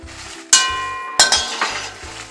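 Dried red chillies dry roasted in a pan without ghee for Tanjore sambar, with sharp metallic clinks and scrapes of a utensil stirring against the pan, loud and close, two strong strikes followed by lighter rattling.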